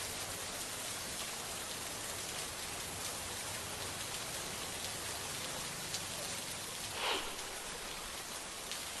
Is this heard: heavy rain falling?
yes